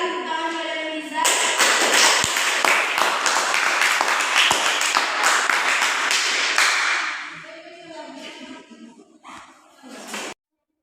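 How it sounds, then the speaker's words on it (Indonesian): A classroom of students breaks into brisk applause for a classmate who answered a question, dense clapping for several seconds that thins out and stops, followed by a few scattered sounds and brief voices. "Berikan tepuk tangan kepada Wan Rizal."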